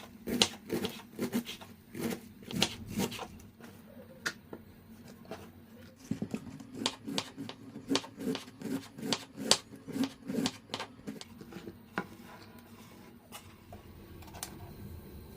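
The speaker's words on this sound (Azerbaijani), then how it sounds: "Xırda kələmin yarısını incə-incə doğrayıram." A knife chops cabbage finely for borscht, a fast run of crisp, close taps on a board with brief pauses, steady and moderately loud throughout.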